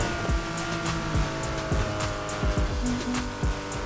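Nissan Skyline 2000 GT-R HakoSuka race build on its final lap in the Need for Speed Heat video game, engine revving loud and constant with rapid gear shifts and brief tire squeals.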